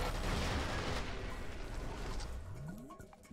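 Gunfire in the video game F.E.A.R., a dense, rattling burst of shots with booming impacts, loud at first and then tapering off, with a rising whine near the end.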